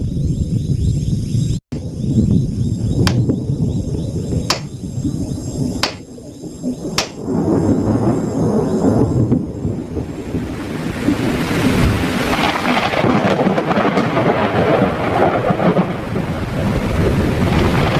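A steady roar of rain and wind with a few sharp cracks early on, building into a dense, loud downpour.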